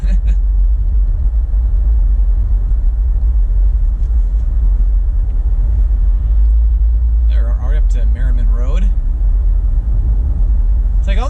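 Steady low road rumble from a car cruising along Edward N Hines Drive, a 40 mph parkway with few traffic lights, continuous throughout with brief voices and a short sharp sound near the end.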